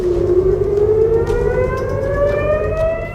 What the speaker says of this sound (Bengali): এর পরপরই ইসরায়েল জুড়ে বাজছে সাইরেন।